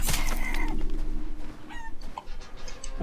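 Chickens cluck in Resident Evil Village, several short clucks and squawks near and fairly loud over a murky game background, with no talk.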